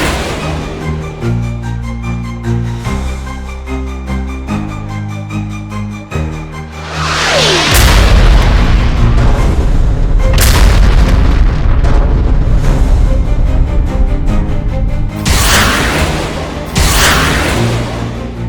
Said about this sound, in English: One F-22 takes the bait and fires a missile